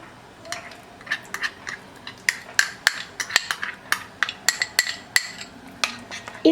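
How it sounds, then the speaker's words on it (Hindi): Spice paste being stirred into ghee in a microwave-safe bowl: a spoon clinks and taps rhythmically against the bowl in quick, fairly loud strokes, close by and with no talking. "और इसमें मिलाएंगे मसाले का पेस्ट।"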